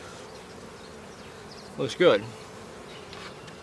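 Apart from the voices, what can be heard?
honeybees buzzing around an open hive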